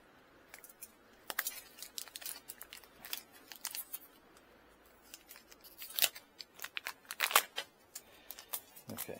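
Scissors snipping through plastic packaging around a rain barrel tube, a close series of irregular crisp cuts mixed with crinkling and rustling of the wrapper, quiet between bursts, with no talking.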